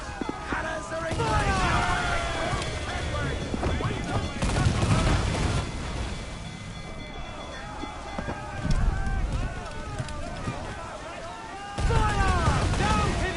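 Broadside cannon volleys boom from warships at sea in Assassin's Creed Black Flag, coming in loud bursts over wind, creaking and crew shouting.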